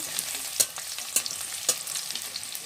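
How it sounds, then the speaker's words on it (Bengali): Chicken pieces and taro (kachu) stir-fried in a pan, a steady bright sizzle with occasional louder scrapes and stirring clatters spaced through it. "নাড়াচাড়া করে ভেজে নেব"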